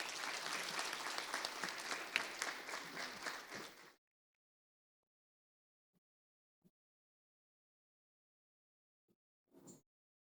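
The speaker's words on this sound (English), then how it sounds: "A big round of applause for our speaker and respondent" Audience applause for a speaker and respondent at a teacher education plenary session, a dense burst of clapping for about four seconds that stops abruptly, leaving near silence with a few faint knocks and rustles.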